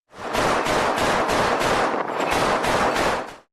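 Sustained rapid bursts from a naval gun firing about 200 rounds per minute of high explosive and armor-piercing ammunition. The rhythm is loud and dense and continues for several seconds with no talk.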